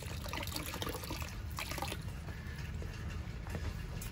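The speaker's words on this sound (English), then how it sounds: "we got some water flowing right now" An old outdoor faucet runs in a steady, close splashing stream with faint sputters from air being pushed out of the line, no voices over it.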